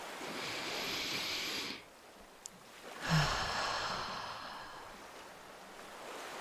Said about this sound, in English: Let's take another deep cleansing breath